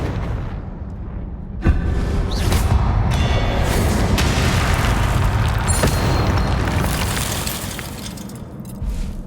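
A Confringo blasting spell goes off in Hogwarts Legacy, a sudden booming explosion that swells into a dense, rumbling roar with crackling, shattering debris, sustained loud for several seconds before easing off.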